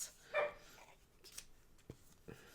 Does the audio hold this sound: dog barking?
yes